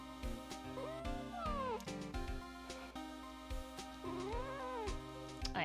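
Shop Cat, a house cat indoors during a livestream, meows twice, a short wavering cry early and a longer one later, close and distinct over faint background music.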